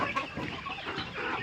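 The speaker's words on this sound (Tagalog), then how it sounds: "Inuuna lang itong mga alagang manok na patukain." Rhode Island chickens on a small farm clucking while being fed, a close, busy cluster of overlapping clucks and short calls through the whole brief moment.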